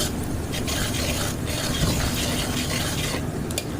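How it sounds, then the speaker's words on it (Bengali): Onions and green chillies frying in oil for a Bengali prawn and taro dish give a steady, close sizzle with soft stirring and scraping, continuous and even throughout. "প্রথমে পেঁয়াজ কাঁচা মরিচ তেলে ভালো করে ভেজে নিয়ে"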